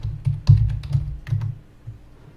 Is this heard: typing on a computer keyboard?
yes